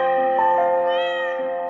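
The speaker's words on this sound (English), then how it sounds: "Cute kitten loves spicy food." A kitten lets out one sustained, close, loud meow that bends in pitch midway and slowly fades toward the end, with no other sounds.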